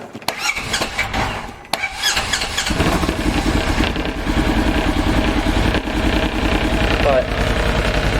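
A 2017 Polaris Ranger XP 900 engine runs loud and close after an electrical fix, with a steady rumbling drone, a brief squeal and some people speaking over it.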